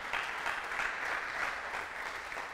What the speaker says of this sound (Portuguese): Ele merece mais um aplauso hoje